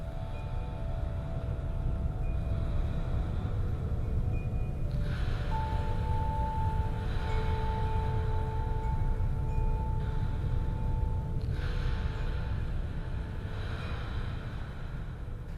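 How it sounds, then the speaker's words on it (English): Steady washing surf noise with breathy, gasping swells layered over a dense low rumble, continuous and fairly loud throughout with soft tonal hums beneath. "I have a lot of waves and heavy breathing kinda syncing to the music"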